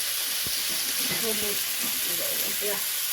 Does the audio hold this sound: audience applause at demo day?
no